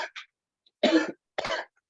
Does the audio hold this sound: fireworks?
no